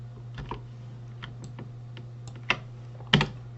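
Keys click on a computer keyboard during 3D modeling work in Maya, a few light scattered taps followed by two sharper presses near the end, close and quiet over a steady hum.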